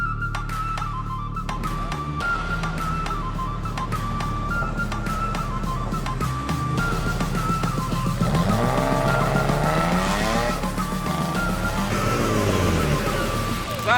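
A drift car runs through the final zone of a drift course at the Mykolaiv Drift Series event, its engine roaring loud and steady and rising in pitch, with tire squeal and skidding, close and continuous.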